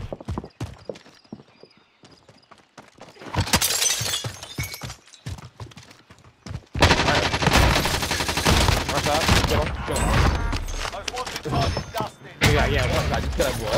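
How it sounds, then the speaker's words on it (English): Gunfire in the video game Call of Duty: Modern Warfare erupts in sharp repeated shots and bursts, sparse at first and then dense and loud, mixed with impacts and in-game effects. "I was shooting through the wall."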